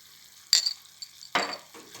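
Onions frying in oil in a pan with chili flakes stirred in, giving close bursts of sizzling and scraping with short clinks, three separate stirring surges over two seconds.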